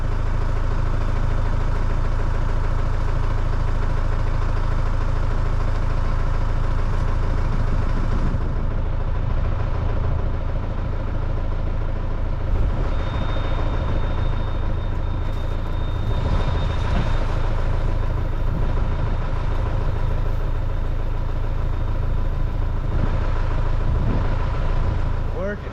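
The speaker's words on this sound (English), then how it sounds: "Got a tractor running" A tractor engine idles steadily at a farm sprayer, a continuous low rumble that holds at the same loudness throughout while someone talks over it.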